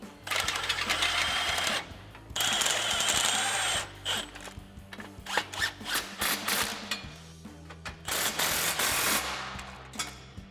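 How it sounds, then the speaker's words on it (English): A 13mm swivel socket on a long extension ratchets back and forth, tightening exhaust flange bolts on a 2017-2022 Ford F-250. Bursts of rapid clicking alternate with short pauses. "I'm gonna take that 13mm swivel socket with the long extension again"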